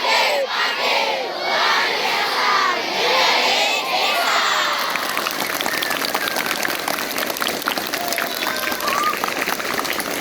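Students at a junior high school orientation shout together loudly at first, then break into dense, sustained clapping that fills the rest of the stretch, with the crowd still audible beneath.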